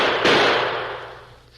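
Several rifles fire at once at buffalo on the open plains, producing one sharp, loud blast whose echo decays slowly over about a second.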